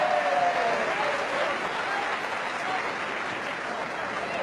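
A large Wimbledon tennis crowd applauds in a dense, sustained wash of clapping that fills the whole stretch and tapers slightly as it continues.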